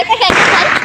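A single sharp pop of a Diwali firecracker bursts close by, followed by a brief hissing crackle.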